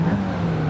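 Supercharged Ford Crown Victoria V8 in Forza Horizon 5, a steady low engine drone holding one pitch for under a second, loud and close, with no talk over it.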